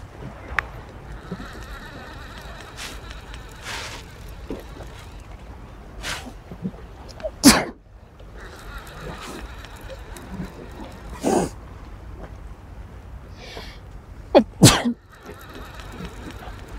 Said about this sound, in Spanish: Sí, tuve que estornudar